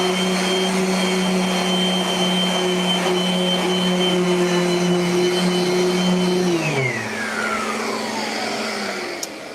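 A power sander runs on a skateboard deck in a handcrafting workshop, a loud steady whine and hum that holds evenly, then winds down in falling pitch as it is switched off, ending with a small click.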